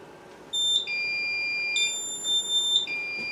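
A fire alarm control panel sounds its trouble beep for a duplicate device address, a loud, sustained high electronic tone repeating in short pulses.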